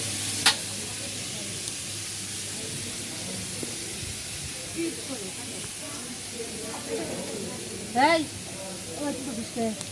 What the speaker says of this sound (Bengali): এখন এখানে তরকারি রান্না করা হচ্ছে এখানে কপি ফুলকপি দেওয়া হয়েছে আর আলু বেগুন দিয়ে রান্না করবে